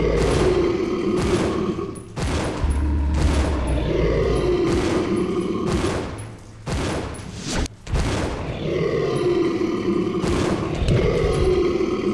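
Magnum revolver shots fired at the Proto Tyrant in Resident Evil Zero, heavy booming reports spaced irregularly over a continuous game backdrop, loud and close, with no talk.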